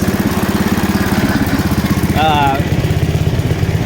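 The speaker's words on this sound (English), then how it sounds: "It's running. It idles well." A Sears Suburban garden tractor engine with a replacement carburetor idles steadily and close by, its even low chugging pulse running throughout, with a brief voice-like warble partway through.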